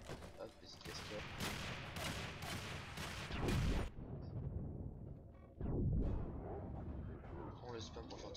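Boss fight against Councilor Vay Hek in Warframe, with rapid shotgun blasts and booming impacts in dense volleys, then a pause and another burst, heard under a player's speech.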